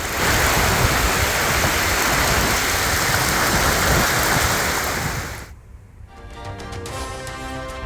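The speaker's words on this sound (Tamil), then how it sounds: "கனமழை காரணமாக ஸ்பெயினின் சாலைகளில் பெருக்கெடுத்து ஓடிய வெள்ளம்." Floodwater from heavy rain rushes along a road in Spain, a loud, steady wash of flowing water that drops away near the end, leaving fainter splashing.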